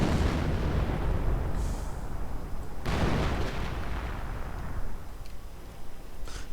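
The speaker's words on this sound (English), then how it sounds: "Artillery also blasting up a bit." Artillery fire in a WWII strategy video game, heavy booming blasts with a strong one near the middle, trailing rumble and scattered distant bursts, no talk.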